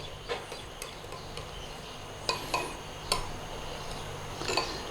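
A spoon stirs cornstarch slurry into a Chinese sweet noodle sauce, giving a few scattered clinks and scrapes against the pot over a quiet background, with no talking.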